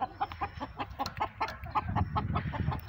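A Kadaknath black chicken, a large rooster around 2.5 kg, clucks in quick, steady, close-up pulses with no talking.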